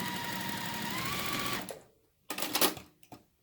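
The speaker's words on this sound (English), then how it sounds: "I'm going to start sewing these 2 units together. And there again, I'm lining them up, and I'm going to stitch 1/4 inch." A sewing machine stitches two quilt block units together with a quarter-inch seam, a steady close whir for about a second and a half, then it stops and a few short bursts of handling clatter follow.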